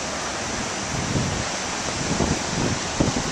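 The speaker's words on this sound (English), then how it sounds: "Hopefully you can hear those waves" Ocean waves wash onto the beach at Orange Beach, Alabama, as a steady roar of surf with soft swells breaking and rising through a continuous hiss, no voices heard.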